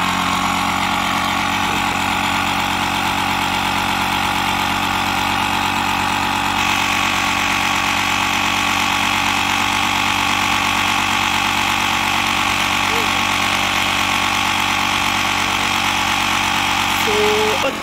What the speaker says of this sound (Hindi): ये मैं इन्फ्लेटर ऑन करती हूँ, ये काफ़ी आवाज़ करता है